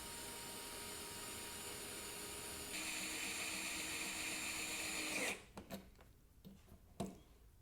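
A Skil Twist 2.0 electric screwdriver whirs steadily, its motor pitch shifting partway through, then cuts off, followed by a few light clicks and taps.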